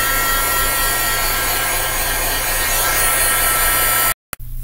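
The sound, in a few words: heat tool drying ink on a card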